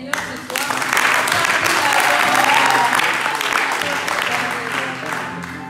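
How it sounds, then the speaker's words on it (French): A church congregation applauds, sustained dense clapping that rises, peaks and slowly thins, with voices mixed into the crowd. "J'aimerais que nous puissions acclamer le Seigneur ce soir"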